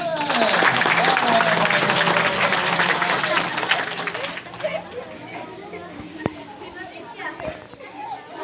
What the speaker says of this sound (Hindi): तो जोरदार ताली हो जाए।